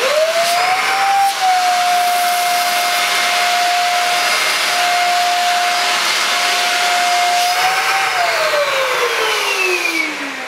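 A Goblin handheld stick vacuum cleaner runs across a floor strewn with rolled oats, its loud steady motor whine rising at switch-on, holding level for several seconds, then falling as it powers down.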